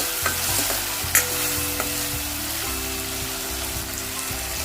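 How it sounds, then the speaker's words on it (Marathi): Salted tomato fries in a pan, a steady close sizzle with spoon scrapes and stirring clicks throughout, including one sharper knock early on. "चांगला असा नरम करून घ्यायचा टोमॅटो"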